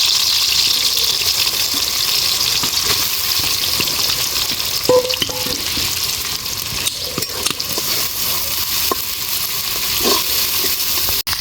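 Chopped onions sizzle steadily in hot oil while a duck dish is being cooked, a loud continuous hiss with occasional stirring clinks and scrapes of the utensil.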